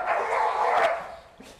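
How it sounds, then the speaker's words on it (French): Dogs bark outside in the wind, one sustained, agitated bark close by followed by a fainter yip. "Mes chiens, une fois de plus,"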